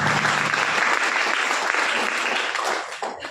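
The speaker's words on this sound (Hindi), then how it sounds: "एक बार जोरदार ताली होनी" A seminar audience applauds loudly in a big, dense roar of many clapping hands that stays steady and then fades slightly at the end.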